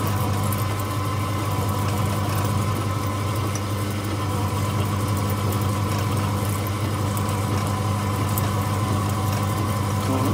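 A lathe drills with the tailstock while running in back gear, giving a steady, continuous low motor hum and drone with no pauses and no talking.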